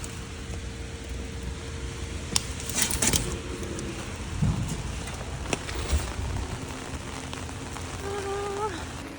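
Heavy rain pours in New York, a steady dense hiss with scattered drips and clatters close by, a few brief sharp knocks cutting through and faint traffic sounds underneath.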